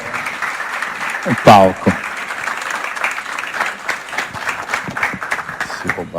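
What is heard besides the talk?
audience applauding the three evening speakers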